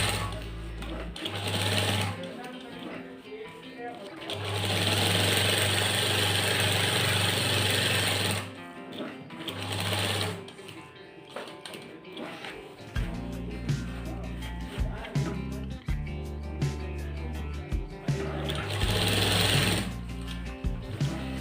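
Sewing machine stitching a foot-wide seam on an apple cut shirt, running in several long bursts with short pauses between them, then shorter start-stop runs mixed with handling clicks and knocks near the end.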